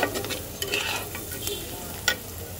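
Taro greens cooking with turmeric and coriander powder are stirred in a pan, a low sizzle broken by scraping strokes and one sharp clack, close and with no one speaking.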